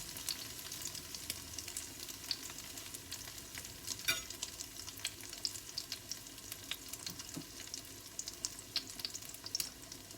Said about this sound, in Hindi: टोस्ट जो है वो इसमें फ्राई होने के लिए डाल देंगे। और इसे फ्राई होने देंगे।